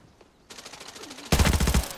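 Automatic gunfire in the shooter game Arena Breakout, with a lighter burst first and then a loud, rapid string of shots toward the end.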